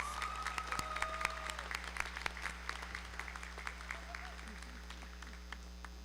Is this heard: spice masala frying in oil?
no